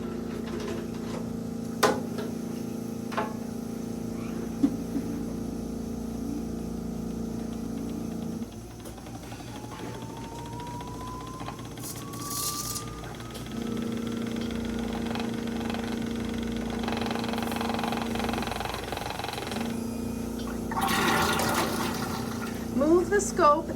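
A Scope Buddy Plus pump purging an endoscope runs with a steady mid-pitched motor hum and faint fluid trickle, shifting in level partway through, with occasional clicks and brief hissy bursts.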